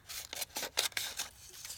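Scissors snip through paper during junk journal crafting. A quick, uneven run of close, crisp cuts goes all the way around the sheet.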